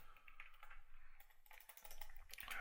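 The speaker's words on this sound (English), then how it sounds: "going crazy, typing random things" Rapid, uneven keystrokes clatter on a computer keyboard at close range, a quiet burst of random typing with no voices over it.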